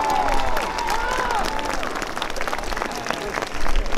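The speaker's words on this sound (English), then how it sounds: "Give yourself a round of applause." Audience applause at an autism awareness flag-raising event, a crowd clapping steadily with some cheering, under a voice speaking at the start.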